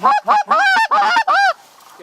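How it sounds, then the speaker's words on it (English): A flock of geese in the video game Red Dead Redemption honks in a rapid series of loud, nasal calls, several overlapping bursts close by, then fading into quiet. "now that's a bunch of birds getting up"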